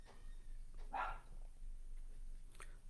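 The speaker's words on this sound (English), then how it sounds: "I'm sure you guys can hear dog barking." A pet dog barks somewhere in a home, one faint, distant bark followed by a quieter yip a moment later over a low background hum.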